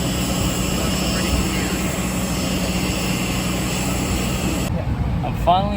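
Steady loud jet engine whine and ground hum of an Airbus A319-132 airliner at an airport gate in Peru, continuous throughout with a brief quieter change near the end.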